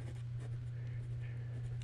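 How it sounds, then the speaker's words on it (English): Writing with a 1945 Sheaffer Lifetime Triumph fountain pen on Clairefontaine 90 gsm paper, a soft continuous nib scratch close up, sitting faintly under a steady low electrical hum. "we're back with the writing portion of the review"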